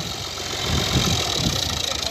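A Massey Ferguson MF 260 tractor engine idles close by with a steady low rumble and a slight uneven chug that swells midway, and no clear talking.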